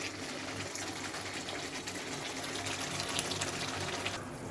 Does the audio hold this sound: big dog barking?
no